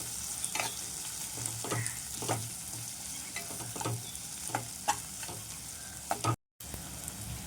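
Chopped tomato sautés in a pan for a dried bombil and potato curry, giving a steady close sizzle. Spatula strokes scrape and tap through it at irregular intervals, and the sound cuts out briefly near the end.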